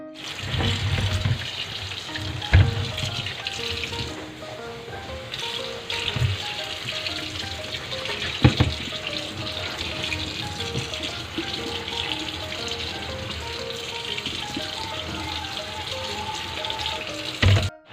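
Mung beans for sinigang being washed under a running tap, water splashing steadily into a basin close by, with a few sharp knocks of a container against the sink.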